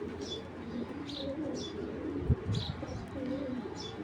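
A silver bagha pigeon coos softly nearby in repeated low, rolling calls, with light chirps and a brief thump partway through.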